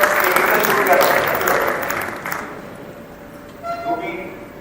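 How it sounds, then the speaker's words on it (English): Audience applause at a Rotary Foundation seminar hosted by Panipat Midtown, a burst of clapping from a seated crowd that fades out after about two seconds, followed by a voice speaking. "Please give a round of applause on my behalf, thanking him for taking such good care of me."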